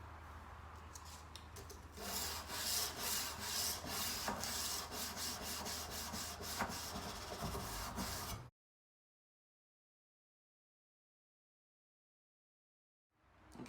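A knife blade is hand sanded with 360 grit sandpaper, giving a steady, close, back-and-forth scratchy rubbing for about eight seconds before it stops abruptly into silence.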